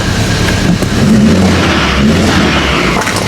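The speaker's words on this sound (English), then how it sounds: "see how smooth that engine sounds" A rebuilt VW Golf 7 GTI engine runs loudly and close, with a steady engine drone and a couple of rising revs over continuous mechanical noise.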